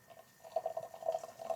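Nitro amber ale pours into a glass, a short, fairly quiet run of gurgling and bubbling liquid that starts after a brief pause, alone without speech.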